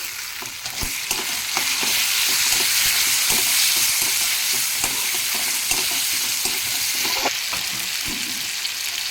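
Ginger paste, turmeric and chopped tomatoes fry in a pan for a ridge gourd and toor dal curry, giving a loud, steady sizzle with scattered stirring scrapes and no voices.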